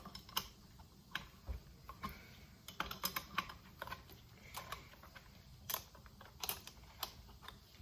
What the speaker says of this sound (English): we wind this nut over here, which on the internal will pull it out, and that pulls the bearing out.